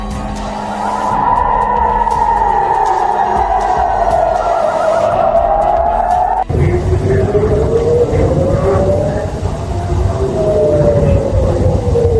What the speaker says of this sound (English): a missile hitting the target, lighting up the night sky amid the sound of sirens